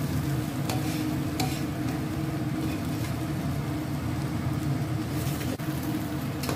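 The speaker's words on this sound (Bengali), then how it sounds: "এইবার একটু রেখে রেখে ভাজলেও হবে, 2-1 মিনিট একটু নাড়ানোটা স্টপ করে, তারপরে আবার একটু পরে আবার নাড়িয়ে" Masoor dal khichuri fries in a pan with a steady, continuous sizzle, broken now and then by faint scrapes of a stirring spoon, close by with no talking.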